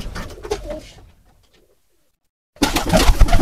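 Pigeons of Sirazi and Lakkha breeds coo loudly and close by, one bout of cooing, then a pause of near silence before a second, louder burst.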